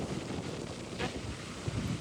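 Strong wind buffets the microphone at sea on a fishing boat used for crabbing, a steady broadband roar with gusts and water wash, continuous and close throughout.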